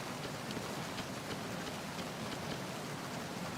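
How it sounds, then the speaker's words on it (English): Steady rain falls in Metal Gear Solid 2, a dense, even hiss of drops on surfaces that holds at a constant level with no voices. "It says stopped raining, and now it's raining again."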